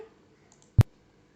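A single sharp computer mouse click, close and crisp, standing alone against near silence.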